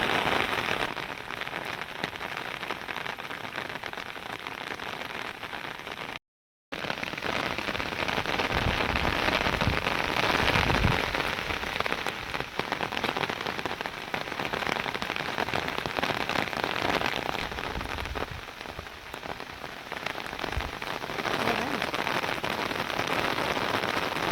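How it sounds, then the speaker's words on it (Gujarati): Heavy rain pours down steadily in a dense, loud, continuous roar of drops on surfaces near farm fields, with no voices. "વરસાદ બહુ વધારે ચડ્યું"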